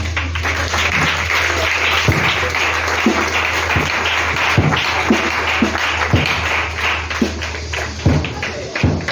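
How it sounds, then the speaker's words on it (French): A church congregation applauds during a French-language sermon, a steady broadband wash of clapping with some sharper individual claps and thuds standing out, continuous and fairly loud throughout. "Acclamons Jésus."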